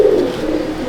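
A female old-line Madrasi pigeon with blue-bar markings gives a single close, low, throaty coo, brief and alone.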